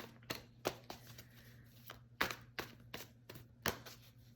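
Quiet, irregular snapping and riffling of a deck of tarot cards being shuffled, a series of sharp taps and flutters with short pauses, no voices.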